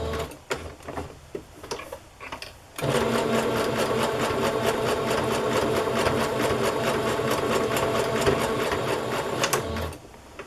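A sewing machine stitches a fabric pocket into a handmade journal, running steadily and loudly for about seven seconds after a few brief handling clicks and taps.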